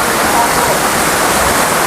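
Curug Paniis waterfall in Pandeglang roars as a steady, loud, broadband rush of falling water with no break, filling the whole stretch up close.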